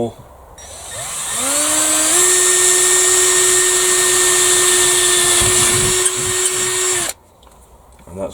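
A power drill boring a hole in wood for a garden gate, its motor revving up to a loud, steady whine that holds for about six seconds and then stops, with the pitch sagging slightly as the bit bites.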